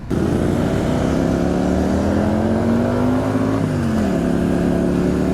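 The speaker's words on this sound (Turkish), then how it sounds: "Furkan'ın motoru" A custom-built motorcycle engine on a group ride in Turkey hums steadily and loudly throughout, its pitch rising gradually and then dropping sharply near the end as the rider shifts gear, with no talk.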